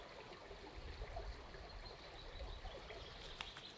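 Faint, steady rush of a flowing river with soft gurgles, fairly distant and quiet, uninterrupted throughout.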